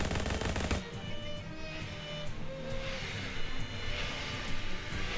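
Rapid gunfire from the video game Shadows Over Loathing, a dense burst of loud shots at the start, then sparser cracks and pops over a steady noisy game soundscape.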